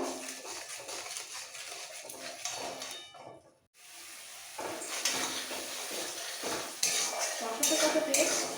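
Malabar spinach (puishak) being sautéed with spices for a pure vegetarian dish, a spatula scraping and clinking against the pan over a steady frying hiss, with a brief quiet gap midway before the stirring resumes louder.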